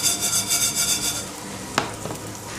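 Bulgur toasts in a dry pan, with a rhythmic rasping stir for over a second, then quieter scraping and a sharp clink of the utensil against the pan.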